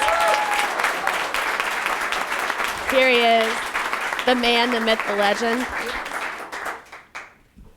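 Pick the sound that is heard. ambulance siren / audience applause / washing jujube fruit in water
audience applause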